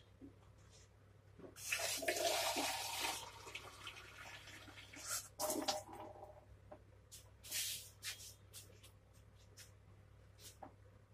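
Water is poured onto a potted gardenia (gandharaj) plant. Soft, faint splashing and trickling come in several short bursts, close by and quiet.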